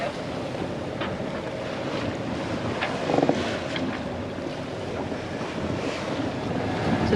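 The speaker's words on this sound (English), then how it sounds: "we've got the engine on 1200 revs, and we're just pottering" A sailboat motor-sailing at a gentle 4.5 knots with its engine held at 1200 revs, a steady low drone under constant wind buffeting and wash of swell against the hull, with no clear speech.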